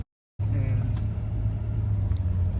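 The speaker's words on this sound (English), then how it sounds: "I'm in two-wheel drive and I'm making it through the snow" A 2022 Ford F350 Tremor truck drives through snow in two-wheel drive, its engine a steady low rumble close by after a brief silence at the start.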